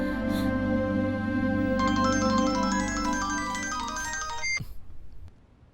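A mobile phone ringtone plays loudly and close as a repeating electronic melody, thickening partway through, then cuts off abruptly before a brief rustle and quiet.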